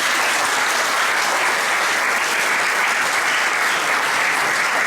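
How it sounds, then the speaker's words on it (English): Audience at a talks event giving a round of applause, a dense, even wash of many hands clapping at steady loudness for the full stretch, with no voices standing out. "Let's give them a round of applause."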